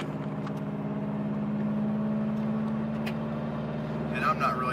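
A 2002 Subaru WRX cruises in 4th gear at about 2,500 RPM, its engine giving a steady low hum inside the cabin while the driver talks throughout.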